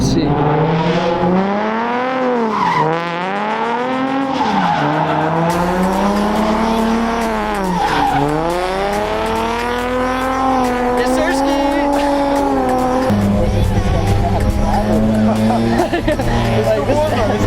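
Drifting cars roar and rev loudly with long, wavering tire squeals rising and falling, crowd chatter mixed in underneath the engines.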